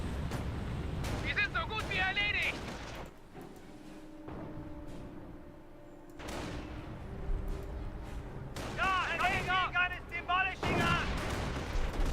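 Company of Heroes battle sounds with heavy booming artillery and gunfire blasts at the start and again near the end. A quieter lull sits between them, and a commentator talks over much of the action.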